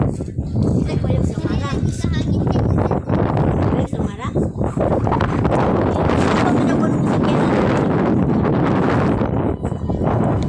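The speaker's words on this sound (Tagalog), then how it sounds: "oh, gandang may hangin." Strong wind buffets the microphone in a steady roar throughout, with people talking underneath.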